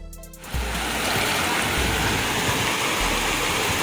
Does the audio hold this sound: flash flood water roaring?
yes